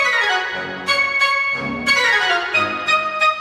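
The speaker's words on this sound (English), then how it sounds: "I'm doing something similar with the short woodwinds over here." Short woodwind runs played back from a Logic music session, bright quick staccato phrases in clustered bursts with sustained tones between, clear and close with no talk.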